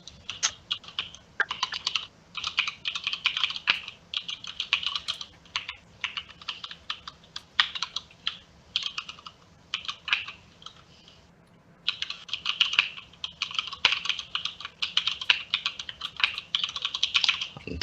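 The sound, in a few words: typing on a computer keyboard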